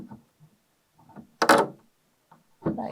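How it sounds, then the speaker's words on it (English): The door of a Vetario T40M or T50M veterinary intensive care unit is fitted into place, giving a few scattered soft knocks and a sharper clunk, close and separated by silences. "So the door slots in here,"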